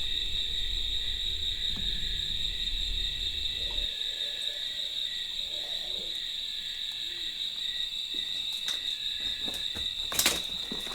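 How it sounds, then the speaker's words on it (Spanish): An owl hooting at night at an abandoned former military barracks, with faint, sparse hoots under a constant chorus of crickets. "Ah, eso que se escuchó es un búho."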